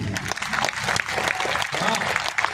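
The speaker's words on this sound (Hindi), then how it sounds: "उस तिरंगे के नाम आपकी तालियां कश्मीर तक पहुंच जानी चाहिए।" An audience at a Hindi humor poetry gathering claps in a lively burst, dense rapid clapping throughout with a voice briefly audible beneath it.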